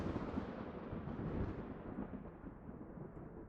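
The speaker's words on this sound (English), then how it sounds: "crack of thunder." A thunder crack sound effect in a fantasy tabletop role-play scene: a loud, dense rumble that fills the whole clip and slowly fades over a few seconds, with no voices.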